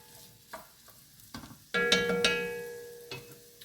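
Carrots being stirred in oil in a cast-iron cocotte for beef and carrots: a few soft scrapes and knocks, then a bright metallic clank with a ringing tone that fades over a soft sizzle.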